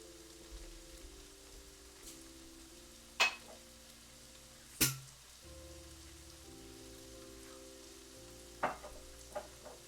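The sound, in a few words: caramelizing sauce frying in a pan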